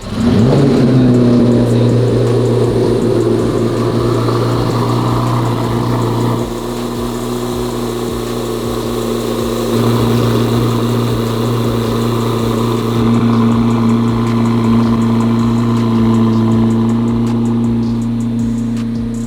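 A Chevrolet C8 Corvette ZR1, already warmed up, runs close and loud with a steady low idle, rising into revs and throttle blips before settling back to a smooth running drone, no speech.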